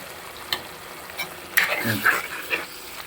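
A spoon stirs goat liver curry in a pan over a low flame, giving a few scattered scrapes and soft clinks over a faint sizzle.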